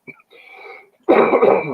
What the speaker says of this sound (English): It's this freaking dry cough that I can't.